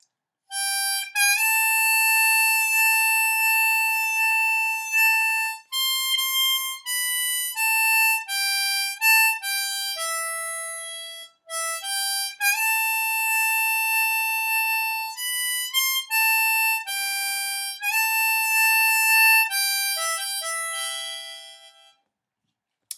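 Harmonica plays the solo from a song slowly, with clear sustained reedy notes in a steady phrase sequence and short breaths between them, alone and fairly close.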